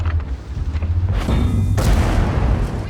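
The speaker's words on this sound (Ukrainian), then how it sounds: "Закидує все-таки артилерія." Artillery shelling in the World of Tanks tank game: dull booms and thuds rumble low under continuous battle noise, with a heavier impact burst near the middle of the passage.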